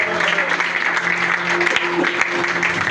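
A church congregation applauds and cheers during a worship service, sustained clapping and shouts filling the room steadily at a loud level from start to finish.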